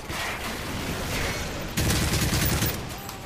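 Rapid gunfire in a capture-the-flag video game match, a loud steady burst of shots that swells sharply partway through, with no talk over it.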